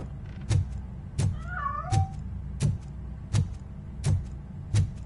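A cat meows once, a short rising cry, over a steady series of seven regular, evenly spaced mechanical thunks that dominate the scene.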